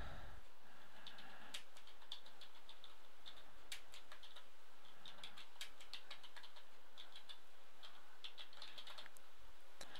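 Steady clicking of a computer keyboard as text is typed, quick irregular keystrokes continuing throughout at a soft, close level with no voices.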